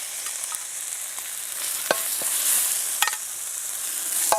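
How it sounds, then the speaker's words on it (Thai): Spice paste stir-fried for a spicy field rat dish gives a steady soft frying hiss with a few sharp clinks and scrapes from the utensil, fairly faint and with no voices. "เอาขัวเครื่องให้มันหอมๆก่อนพี่น้อง"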